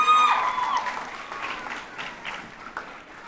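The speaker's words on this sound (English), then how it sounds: "give yourself a round of applause for that" A high school graduation audience bursts into applause, loud dense clapping at first that gradually thins and fades over about three seconds.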